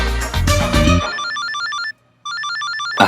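An electronic phone ringtone trills in quick repeated tones, pauses briefly, then resumes; a loud burst of other sound precedes it at the start.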